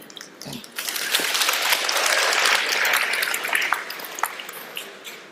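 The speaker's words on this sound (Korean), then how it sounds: "박수를 쳐줬으니까 좀 더." Audience applause at a health-supplement lecture on colon health, steady clapping of a sizable crowd that swells and holds for several seconds before thinning out.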